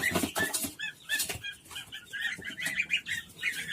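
Young goslings peep close by in repeated high, thin chirps that overlap in a busy cluster, with no one talking.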